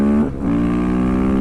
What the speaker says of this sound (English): I'm on a supermoto